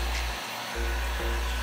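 A heat gun blows steadily while heating vinyl wrap on a mirror, a loud continuous airflow roar that briefly drops out near the middle before resuming.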